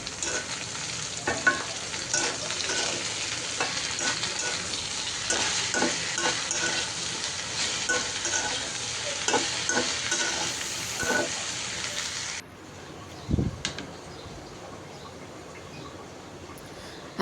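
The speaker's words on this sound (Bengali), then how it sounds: "এখানে বেশি করে পেঁয়াজ কুচি দিলাম, কাঁচামরিচ কুচি দিয়ে ভাজিটা করে নিব।" Chopped onion and green chili fry into a bhaji in a home kitchen pan: loud continuous sizzling with repeated spatula scrapes that suddenly drops off, followed by a single clunk and quieter background.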